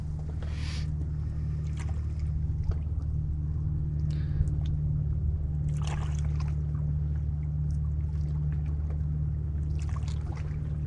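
Boats on choppy water, a steady low engine drone running throughout, with scattered splashes and water sloshing on top.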